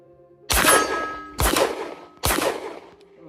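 Three loud, evenly spaced shots ring out from a Walther PDP pistol, each followed by a metallic clang of steel targets and a ringing decay.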